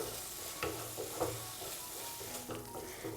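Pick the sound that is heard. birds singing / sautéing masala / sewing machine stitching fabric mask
sautéing masala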